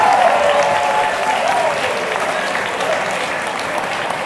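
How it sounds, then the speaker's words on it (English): A dense, steady burst of audience applause, many hands clapping at once, holding loud throughout and easing only slightly toward the end. "Give her a big clap."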